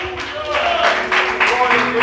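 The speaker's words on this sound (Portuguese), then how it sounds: "Você pode aplaudir e exaltar o Senhor por isso." A church congregation claps in a lively, rhythmic burst of applause, close and fairly loud, with voices rising over it.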